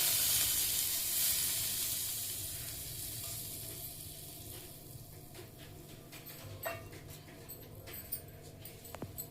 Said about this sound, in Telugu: ఇప్పుడు వేడి నూనె పోస్తున్నాను